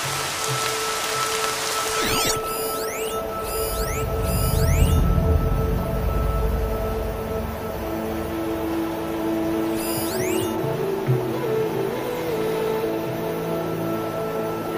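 Steady rainfall in the video game Horizon Zero Dawn, a continuous even hiss of rain on surfaces throughout, with a low rumbling swell midway and a few brief sharp chirps over the top.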